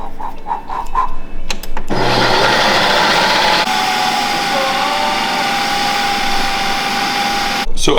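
An ice cream maker machine whirs in a steady, loud drone that holds for several seconds, preceded by a few brief clicks and knocks and ending in a sudden clatter.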